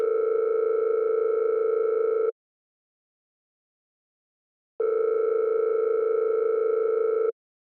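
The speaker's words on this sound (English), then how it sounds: "I'm calling Eleanor right now" Telephone dial tone on a line while a call is being placed: a steady electronic hum sounds for about two seconds, cuts to silence, then returns for another two-second stretch, clear and alone.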